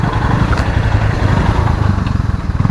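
A Royal Enfield Bullet motorcycle engine revving off-road, a loud, close, continuous thumping rumble that holds steady throughout with a slightly pulsing beat.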